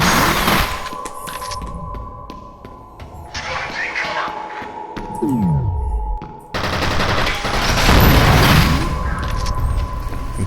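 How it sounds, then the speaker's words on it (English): In the shooter F.E.A.R., a grenade detonation and bursts of gunfire hit loud and close amid rumbling combat noise. A falling whine comes before a heavy blast near the end. "Detonated a grenade"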